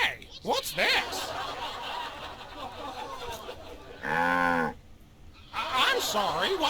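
A cow moos in the Sam and Max video game, one long drawn-out low moo heard near the middle, framed by speech and chuckling voices before and after it.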